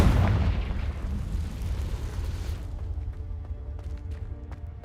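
In Hogwarts Legacy, a Confringo blasting spell goes off as a loud, deep explosion boom that rumbles and slowly decays, followed by scattered crackles and small debris sounds.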